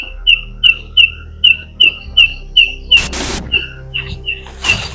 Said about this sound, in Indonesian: Ya ada suara kan. Suara burung.